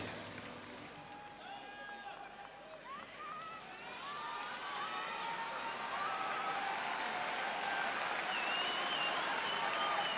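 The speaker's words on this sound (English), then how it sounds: "Great applause here at Saitama Super Arena for Don Fry" A large crowd at Saitama Super Arena applauds and cheers for a fighter at a mixed martial arts event, building steadily louder over several seconds, with whistles and a voice under the noise.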